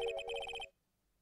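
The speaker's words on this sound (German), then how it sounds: "Ich habe gerade ein Telefon klingeln hören." A cell phone rings with a modern electronic melody in the video game Phoenix Wright: Ace Attorney, a short burst of rapid bright tonal beeps that stops abruptly, followed by near silence.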